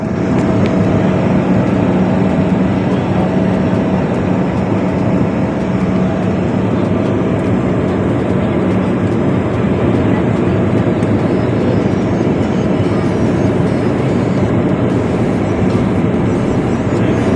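Steady, loud cabin roar of an airplane in flight from an airport in Jordan, a constant engine drone filling the whole stretch.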